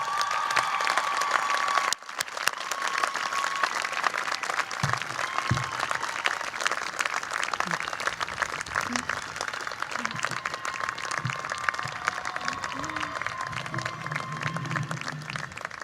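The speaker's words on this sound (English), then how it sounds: "Oh, we've got to keep clapping for him." Audience at a college commencement ceremony applauding the student speaker, steady sustained clapping from a large crowd filling the hall after a brief pause, continuing evenly throughout.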